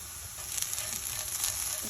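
Cooked rice frying with vangibath masala and ghee in a pan for potato fry rice, giving a soft, steady sizzle with light crackles, close and alone.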